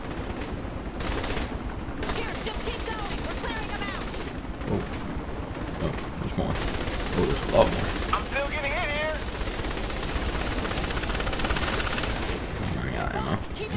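Rapid automatic gunfire from a firearm in the video game Saints Row: The Third, sustained bursts of shots over a busy game soundscape with grunts and voices mixed in.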